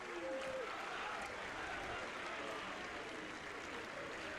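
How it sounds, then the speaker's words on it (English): A big away crowd roars as the Falkirk team enters the pitch at an Alloa versus Falkirk league match, a steady, distant wall of cheering held low beneath a commentator's voice. "the roar from the big away crowd sounds the entry of the Falkirk team"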